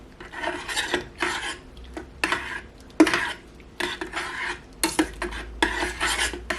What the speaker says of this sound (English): I just want to make sure it's all stirred in good.